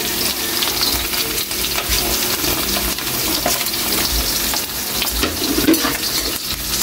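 Garlic and onion fry in a pan with a steady, close sizzle and the occasional stir, with no voices over it.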